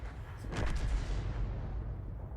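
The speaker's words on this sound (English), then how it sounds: "RT firing in our direction" A distant tank gun shot in a tank battle video game, one dull muffled boom that rolls off into a fading rumble, fairly quiet.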